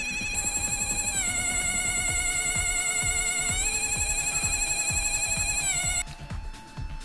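An Energy Ball toy sounds a steady, bright electronic tone with a warbling vibrato while both metal strips are touched. The pitch steps several times, then the tone stops near the end and leaves faint room noise.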